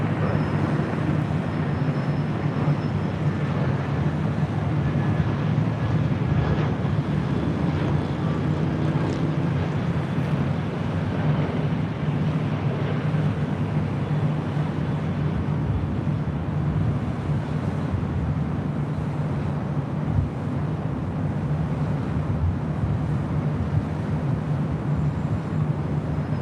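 An American Airlines passenger jet from Dallas Fort Worth lands at LAX, its engines a steady, distant roar rumbling continuously with wind noise, with no talk over it.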